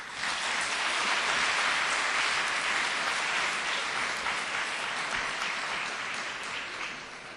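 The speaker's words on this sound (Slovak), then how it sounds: "Z jednim aplauzom im požadajme šťastlivú robotu." Sustained applause from an audience at a song festival, a dense, even patter of many hands clapping continuously and fading slightly toward the end.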